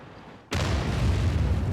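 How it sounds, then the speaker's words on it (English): Artillery shell impacts in World of Tanks, a sudden loud blast after a brief lull, followed by a sustained rumbling roar of explosions and debris that fills the rest of the moment. "there is going to be artillery coming in"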